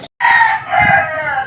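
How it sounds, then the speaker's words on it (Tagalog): A rooster crows loudly and close, one long drawn-out call after a brief silence. "Yung background ko, puro manok na."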